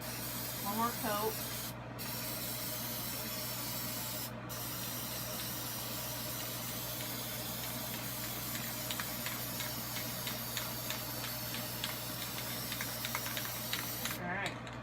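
Aerosol gloss coat sprayed onto shrink plastic pins, a steady close hiss running throughout over a constant low hum, with a faint light clatter near the end.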